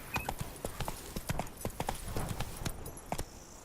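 Hooves of Roach, the horse in The Witcher 3, clip-clop in a quick uneven rhythm at close range, with faint game ambience underneath.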